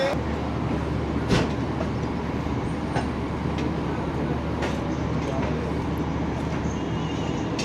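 Inside the Pak Business Express, the train rolls away from Nawabshah station with a steady low rumble and faint rail clatter, a few sharp clicks and knocks along the way, while a voice talks over it.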